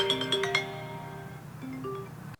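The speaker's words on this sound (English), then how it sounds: "you can just control the volume of the ringtone" A short iPhone ringtone melody plays quietly, bright chiming notes stepping up and down, then cuts off abruptly.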